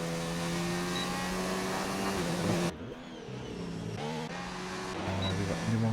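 A race car engine in a German GP racing video game whines through its gears on a lap, rising and shifting steadily, loud and continuous.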